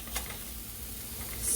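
A chopped shallot sizzles steadily in a hot pan, a close, continuous frying hiss with a faint stir or scrape near the start.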